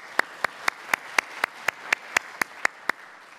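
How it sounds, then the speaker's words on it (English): Hands clapping in a steady, evenly spaced rhythm at a closing symposium session, about a dozen sharp claps in a row, each crisp and distinct rather than a dense crowd roar. "let's give them a round of applause too."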